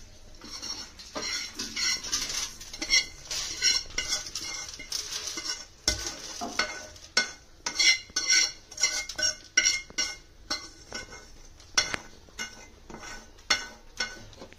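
Fried curry leaves are stirred and scraped in a pan and moved onto a plate, bringing sharp metallic clinks and scrapes in irregular bursts over a faint sizzle, close and fairly quiet without speech.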